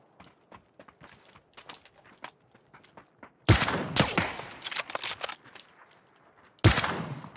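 Shotgun blasts in the video game PUBG: two loud, close booming shots a few seconds apart ring out, with quieter clicks and faint distant gunfire before them.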